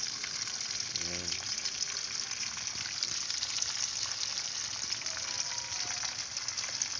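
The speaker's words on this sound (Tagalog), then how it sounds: "Mahilig kasi si Richel sa talong i-prito" Steady crackling sizzle of eggplant frying in hot oil over a wood fire, continuous and moderately close, with faint background noise.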